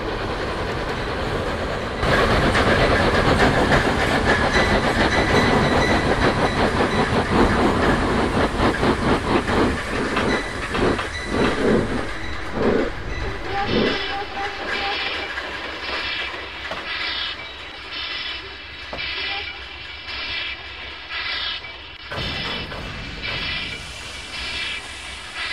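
Steam locomotive sound effects from the Trainz video game: loud rapid chuffing and clickety-clack of wheels on rails, easing into a slower, quieter rhythmic beat as the engine runs on.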